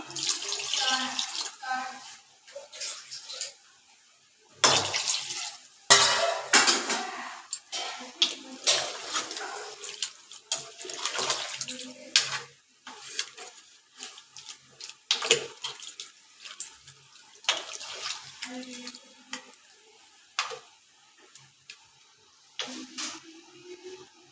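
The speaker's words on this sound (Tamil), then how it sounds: "அதுக்கப்புறம் ஒரு 2 டம்ளர் தண்ணி ஊற்றிக்கலாம்" Water splashes and trickles into a cooking pot for a country chicken dish in uneven bursts, with metal clinks and a voice talking now and then.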